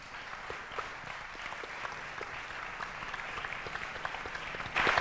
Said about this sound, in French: j'aimerais ici que tous qu'on applaudisse Thibaut et notamment Emmanuel, le producteur de ce film